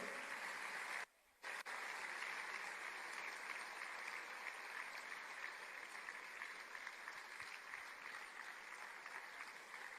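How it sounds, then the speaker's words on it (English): Crowd applause for Obi Cubana at the Enugu Tech Festival, a sustained dense patter of many hands with a brief drop near the start, otherwise steady and loud. "Clap for Obi Cubana."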